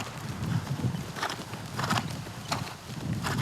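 Horse hooves clip-clop in a steady, rhythmic pattern as a ridden horse moves through transitions between gaits, moderately close with faint background ambience.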